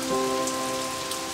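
Steady rain patters on a surface in an animated fairy tale, a soft continuous hiss with faint droplet detail and a low tonal hum beneath, no voices.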